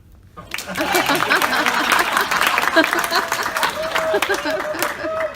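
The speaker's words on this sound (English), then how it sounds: "So this is where you clap" A convention panel audience at DragonCon breaks into sustained applause, dense broadband clapping filling the hall for several seconds, with scattered chuckles and chatter mixed in beneath it.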